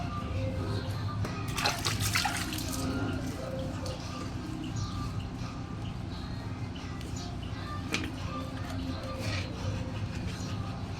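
Water splashes and trickles while a duckling is bathed, with intermittent sloshing bursts over a continuous running-water background.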